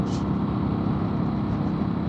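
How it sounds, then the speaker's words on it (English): A Yamaha XT1200Z Super Tenere motorcycle runs with an aftermarket exhaust, a steady, throaty low drone on the move under constant road and wind noise, loud and continuous with no talk. "I absolutely love the sound of this exhaust."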